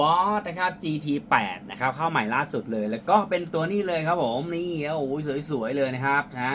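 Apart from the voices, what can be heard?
No everyday noises stand out.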